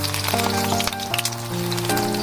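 Scallion pancake dough laid into a pan of preheated oil, sizzling steadily and close up, with a faint crackle running underneath and no talking.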